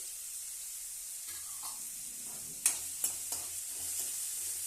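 Fresh ginger fries and sizzles in a pan for vegetable poha, a steady hiss with light stirring scrapes and a few sharp utensil taps near the end, close and moderately loud.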